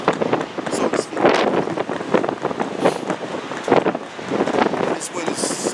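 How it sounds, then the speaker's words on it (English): Strong outdoor wind buffets a camera microphone, a loud, uneven rumbling roar with gusty surges, and someone talks through it. "This wind is something serious."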